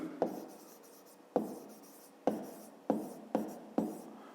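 A pen writes numbers by hand during a fifth-grade maths exercise. Six distinct strokes land at uneven intervals, each a sharp tap trailing into a brief scratch, close and quiet with no talk.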